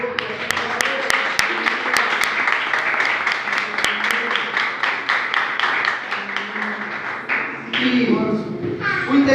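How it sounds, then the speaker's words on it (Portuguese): A church congregation claps along during a worship service: sharp, evenly spaced claps lead into a fuller wash of applause, with voices rising underneath toward the end. "Alguém pode aplaudir?"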